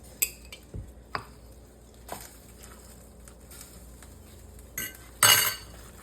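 Minced meat being mixed in a bowl, with sporadic clinks and scrapes of utensil against the dish, soft squelching in between and a brighter clatter near the end, no talking.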